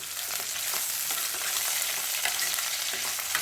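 Onions and green chillies frying in a pan while being stirred for a Telangana-style moong dal tomato curry, a steady close sizzle with scraping stir strokes throughout and no talking.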